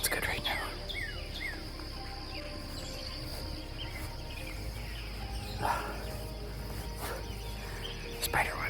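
Scattered morning bird chirps and calls ring out at sunrise along a trail over a constant insect drone, with a few brief louder calls standing out.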